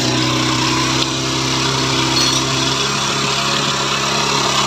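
A TVS Apache BS4 motorcycle engine with a missing problem and RPM that will not hold steady runs close by, giving a continuous buzzing drone with no talk.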